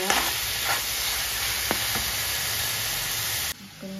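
Constant loud sizzle of food frying in a pan, broad and hissing, with a couple of faint clicks before it cuts lower near the end.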